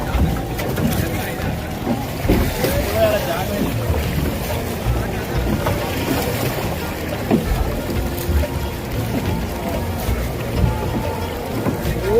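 A boat crosses river water during the Kumbh Mela, with a continuous rushing wash of water and wind buffeting the microphone, and voices murmur underneath throughout.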